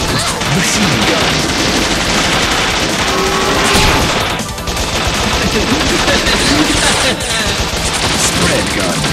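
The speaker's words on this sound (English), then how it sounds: "Machine gun." Machine gun fire in the video game Bot Vice rattles loud and continuous, with dense overlapping shots and crashing effects throughout, nearly unbroken from start to finish.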